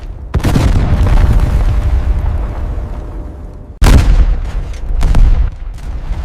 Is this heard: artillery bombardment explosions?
yes